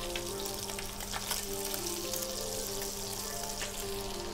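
Hake fillets frying gently in a pan over low heat, giving a steady, soft sizzle with small crackles and pops running continuously throughout, close up and with no talking.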